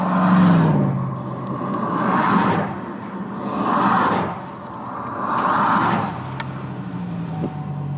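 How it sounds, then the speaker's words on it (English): A Chevy Colorado pickup truck engine, recovering after a reduced-power breakdown, rumbles and revs in repeated surging swells about every one and a half seconds, loud and close with no talking. "And now it just started right back up."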